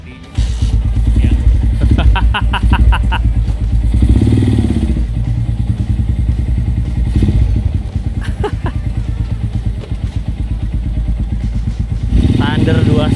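A Suzuki Thunder 250 single-cylinder motorcycle, fitted with twin exhausts, is kick-started with a few thumps and clatters, then its engine runs loud and close with a steady rumble, while people talk over it.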